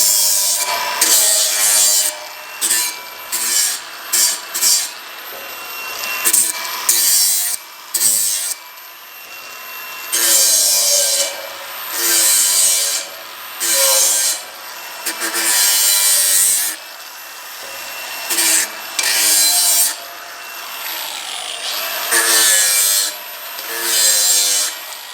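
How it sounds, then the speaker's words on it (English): Steel frame tube end ground to remove a small burr inside and outside during a steel frame floor build for an off-grid house, heard as repeated close, loud rasping passes in bursts with short pauses between them. "So I just give the end a quick grind just to take this little burr off inside and outside."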